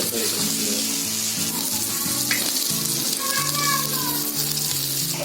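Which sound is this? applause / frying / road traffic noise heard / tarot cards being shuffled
frying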